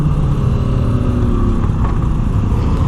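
A Moto Guzzi V7 Stone motorcycle engine runs while being ridden, a loud, close, steady low rumble with a throbbing pulse and no break over its three seconds.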